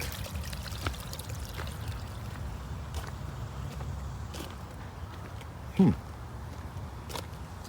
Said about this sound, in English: The water just circulates everywhere.